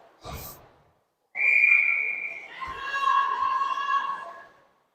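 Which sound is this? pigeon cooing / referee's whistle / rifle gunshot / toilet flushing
referee's whistle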